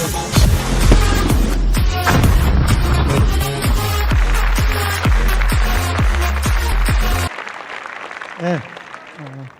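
An indoor audience at a business seminar gives loud sustained applause to welcome a lecturer, dense clapping that stops abruptly, followed by a brief spoken word.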